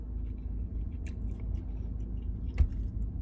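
Someone chewing a Wendy's loaded nacho cheeseburger up close, with soft wet bites and a few sharper crunchy clicks over a low background hum.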